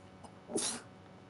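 A single short sneeze bursts out in a quiet room, fairly close and moderately loud, with a faint breath just before it.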